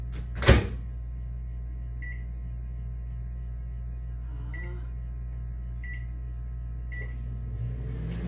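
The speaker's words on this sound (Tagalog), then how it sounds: "Yun ang ating microwave." A microwave oven heating leftovers for breakfast, starting with a clunk of the door or button, then a steady low electric hum running throughout, with a few faint high beeps and whirs along the way.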